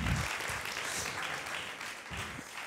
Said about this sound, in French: On peut vous applaudir, merci beaucoup.